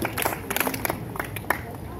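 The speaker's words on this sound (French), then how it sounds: "sous vos applaudissements, s'il vous plaît" A school investiture ceremony audience claps in scattered, uneven bursts, and a crowd murmurs and voices talk over it.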